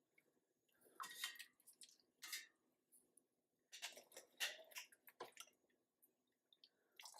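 Potatoes drop into a pot of water on a home kitchen stove for potato salad, giving a few close wet splashes and plops in separate bursts, with quiet pauses and dripping between them.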